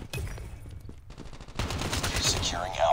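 Rapid ASM10 assault rifle gunfire in Call of Duty Mobile, dense bursts of shots that swell louder in the second half, with game effects layered over them.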